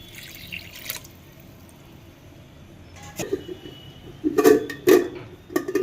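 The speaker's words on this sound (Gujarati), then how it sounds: "બટેટા ડૂબે એટલું પાણી નાખી દઈએ।" Water poured into a pot of potatoes and chickpeas for ragda: quiet at first, then splashing and dripping bursts build toward the end, close by and fairly clear.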